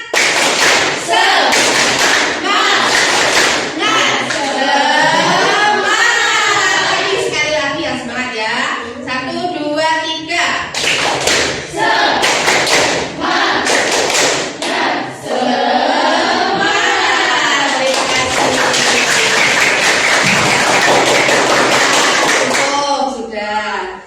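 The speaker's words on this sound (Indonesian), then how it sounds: "Tepuk semangat." A school class performs the 'tepuk semangat' spirit clap, a patterned routine of rhythmic hand claps and chanted words. Loud, close claps in short bursts alternate with the group's chanting voices over a sustained stretch.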